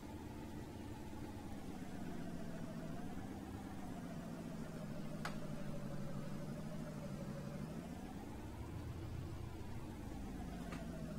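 A pickup truck engine drives steadily in Farming Simulator, pulling a boat to a pole barn in a construction roleplay. The engine hum stays loud and continuous, its pitch dipping and rising gently with speed. Two brief ticks cut through, and no one speaks.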